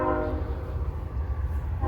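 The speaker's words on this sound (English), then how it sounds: "And there goes a train." A train passes on a railroad near a house, a deep continuous rumble with a loud horn blast at the start and again at the end, with no talking.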